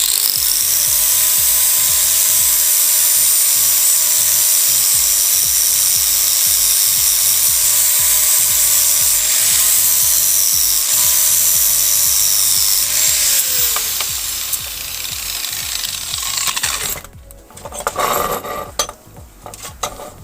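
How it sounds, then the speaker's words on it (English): An angle grinder works a metal piece for a welded sculpture, bending it to a slight arch with a loud, steady whine that runs unbroken for about fifteen seconds, then cuts off into scattered clanks and scraping handling noises. "Now I'm going to take the grinder, I'm just going to arch this slightly."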